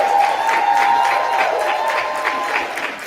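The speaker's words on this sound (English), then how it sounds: "Can we just clap for them first things first?" Audience at a women's leadership summit luncheon plenary applauding, steady sustained clapping from a large crowd with faint cheering mixed in.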